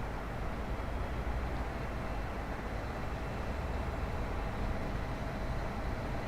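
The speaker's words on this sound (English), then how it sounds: "It's a new measurement train." A new measurement train runs along the track in a Train Sim game, a continuous low rumbling drone of wheels and engine, steady and unbroken with no speech over it.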